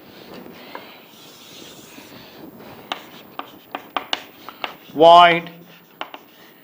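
Someone writes out computer science code by hand, the pen scratching and tapping in short, sparse strokes; a voice speaks briefly near the end.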